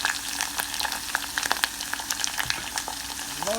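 Curry leaves and garlic crackle and spit in hot oil for mango pickle, a dense close sizzle dotted with sharp pops and the scrape of a stirring spoon.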